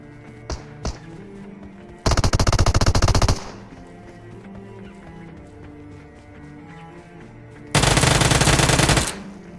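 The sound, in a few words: gunfire from a gun in the BGMI video game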